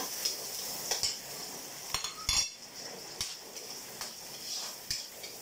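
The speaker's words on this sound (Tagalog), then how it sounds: "Gigisa lang natin yan. Yan, mag-brown-brown siya." Sardines sautéing in a pan as pancit is prepared, with a soft steady sizzle and frying hiss broken by several sharp clinks and scrapes of a utensil stirring against the pan.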